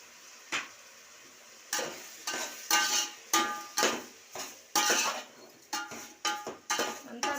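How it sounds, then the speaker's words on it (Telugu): Fried eggplant pieces stirred with turmeric and salt in a pot for sambar, giving a run of close, dry scraping and clinking strokes at an irregular rhythm over a faint sizzle, with no talking. "అంతా కలబెట్టుకొని"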